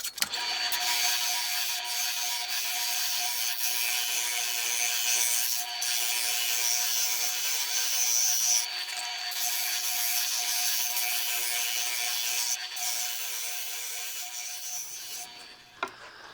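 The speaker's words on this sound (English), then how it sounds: "smooth up these two areas on the oscillating spindle sander" An oscillating spindle sander smooths the edges of a homemade wooden zero-clearance insert plate, giving a steady, close, continuous abrasive whir and rasp that runs unbroken for about fifteen seconds before stopping.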